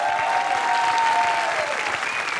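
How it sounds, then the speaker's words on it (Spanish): Sustained, dense clapping fills the room from a studio audience at a Mexican late-night talk show, loud and even throughout, with a faint high tonal whistle running underneath. "El aplauso para Juan y Alexis."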